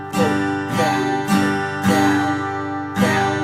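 An acoustic guitar strums one chord in a down-up pattern, with five distinct ringing strokes at a moderate, uneven rhythm, close and clear with no voices.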